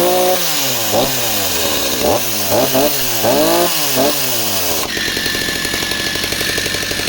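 A 2010 Stihl MS250 chainsaw with a genuine steel bar runs loud and close, revving up and down in repeated bursts before settling into a steady high idle.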